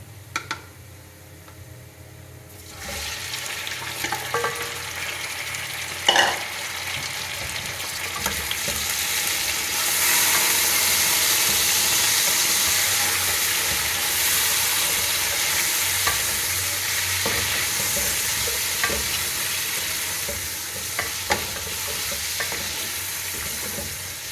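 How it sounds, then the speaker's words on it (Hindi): Chicken sizzles loudly in hot oil with browned onions for a desi chicken and tinda curry, a steady crackling fry with scraping stirs and occasional clinks, swelling louder once the chicken goes in. "हमारा प्याज ब्राउन हो गया है। अब हम इसमें चिकन ऐड कर देंगे।"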